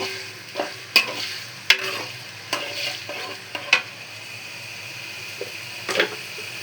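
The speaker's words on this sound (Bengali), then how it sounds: "জিরা বাটা দিয়ে দিলাম, দিয়ে একটু নাড়বো।" Cumin paste frying in a pan and being stirred, a continuous sizzle punctuated by sharp spoon clinks and scrapes against the pan, loud and close at irregular intervals.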